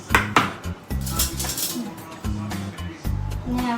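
A metal spoon stirring in a bowl while making homemade dahipuri and panipuri, giving repeated close clinks and scrapes in an uneven rhythm over steady kitchen background noise.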